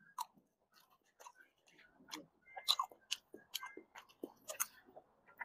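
Close, moist chewing and biting at a cemetery mukbang, with soft clicks and smacks spaced irregularly, sometimes quicker, in a quiet outdoor setting.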